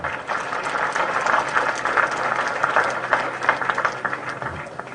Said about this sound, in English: I think you deserve a better applause from the audience, sir.